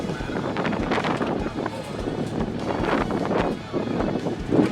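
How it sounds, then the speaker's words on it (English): Strong, violent wind buffets the microphone outdoors at a drag racing event, a loud continuous roar with gusty surges throughout and no clear speech. "That wind just got violent."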